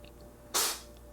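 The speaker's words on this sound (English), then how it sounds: "my cat is sneezing all over everything" A cat gives a single sharp, breathy sneeze, a brief close burst standing out against quiet room hum.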